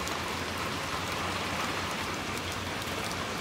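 Heavy rain with big drops in the video game Little Nightmares II makes a dense, steady, hissing downpour that fills the whole clip at an even level, with no voices over it.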